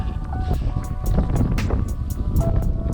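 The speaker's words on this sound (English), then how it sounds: "it is way too windy up here to be safe on that ridge" Strong wind roars across an exposed Colorado mountain ridge near Lakes of the Clouds, buffeting the microphone with a steady, gusty rush that stays loud and close throughout.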